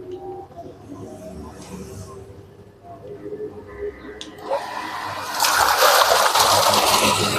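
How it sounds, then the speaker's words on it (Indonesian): A modified Z500 water pump runs at full power through a 2-inch outlet. A steady background rush swells into a loud, broad hiss of spraying water during the last couple of seconds. "semburan dari pompa air Z500 full 2 dim"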